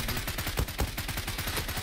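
Rapid automatic gunfire from the Zula online shooter, a steady stream of sharp shots at close range with a few heavier bursts, no talking over it.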